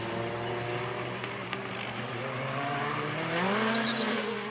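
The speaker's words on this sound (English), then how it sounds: "you can really hear the tyres fighting to put the power down there" WTCC touring car engines roar at a distance during qualifying in Marrakech, rising in pitch as tyres squeal under hard acceleration, a continuous mechanical whine sweeping upward.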